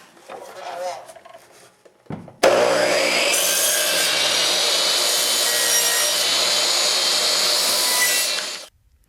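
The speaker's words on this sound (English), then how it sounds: "Cutting on a slight inward bevel allows the front edges of the trim to fit tighter." Saw cutting wooden door casing trim at a slight inward bevel: a quiet scrape, then a loud continuous bright rasping cut for about six seconds that stops abruptly, heard close up.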